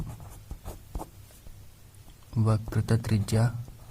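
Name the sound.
writing a physics formula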